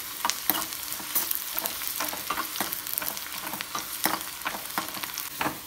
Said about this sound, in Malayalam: നമ്മുടെ ഉള്ളിക്ക് ഇത് നല്ല ഫ്രൈ ആയി തുടങ്ങിയിട്ടുണ്ട്